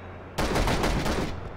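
Close, loud burst of automatic gunfire in the Cold War era ArmA 3 military game, a rapid string of shots lasting about a second before fading.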